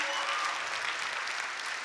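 An audience at an interactive talk session breaks into a round of applause, a steady wash of many people clapping together, moderately loud and continuous for the whole stretch.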